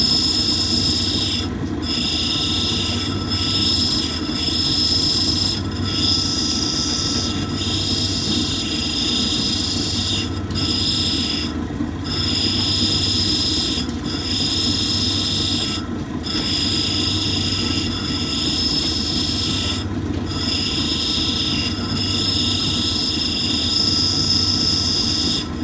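A lapidary grinding wheel runs steadily as the edge of a turquoise cabochon for a bolo tie is touched against it, giving a continuous close whine and rasp with brief breaks where the stone lifts off, no talking.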